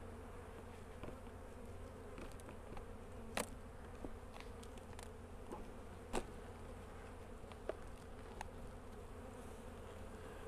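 Bees hum steadily around their hives in a dense buzzing drone, with individual insects flying close by now and then, their buzz briefly louder.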